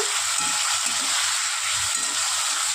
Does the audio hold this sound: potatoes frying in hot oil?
yes